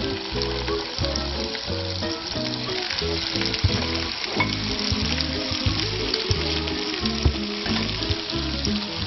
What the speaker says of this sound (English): So we put some butter in the frying pan.